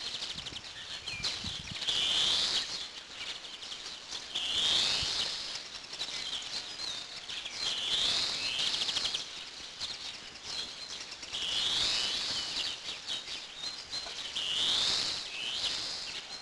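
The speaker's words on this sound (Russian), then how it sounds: "Послушайте, какие тут звуки от птичек." Bird chirps and tweets come in repeating bursts every few seconds over a soft, breezy outdoor background in Chernihiv, Ukraine, during morning shelling.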